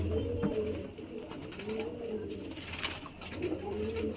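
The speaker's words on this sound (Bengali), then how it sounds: "তো পায়রাটা দেখাই" A pigeon coos softly and repeatedly at close range, low throaty calls rising and falling against a quiet background.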